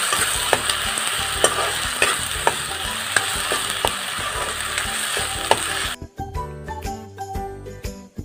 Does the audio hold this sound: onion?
yes